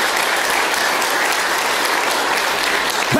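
A church congregation claps together in a dense, steady wash of applause that holds at full strength from start to finish, with no one speaking over it.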